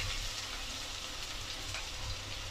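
Two large chopped onions fry in hot oil in a pan with a steady, close, even sizzle.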